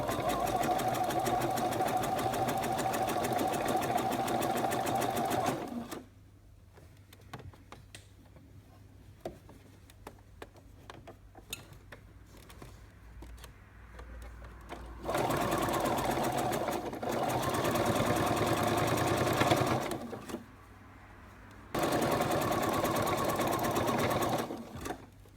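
A home sewing machine stitches a seam with a steady mechanical whir in three long bursts, separated by quieter pauses with faint handling clicks.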